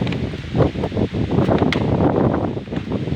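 Strong gusty wind roaring and buffeting close to the microphone, rising and falling in bursts with a rustling edge.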